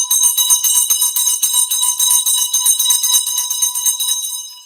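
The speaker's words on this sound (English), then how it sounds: "If anybody out there knows Molly Golightly, let her know that I gave her a big loud bell and some audio today." A loud bell rings rapidly and continuously, a bright metallic clanging that stays close and alone before trailing off at the end.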